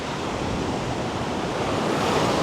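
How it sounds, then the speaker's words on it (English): Waves break on a rocky beach in a continuous, loud wash of surf, a dense steady roar with light wind noise and no voices. "Now, look at this spectacular rocky beach."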